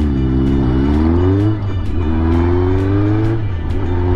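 A Honda CB750F motorcycle engine runs after an overhaul, with a loud, steady engine note. Revs rise and fall smoothly over a few seconds, with no talk.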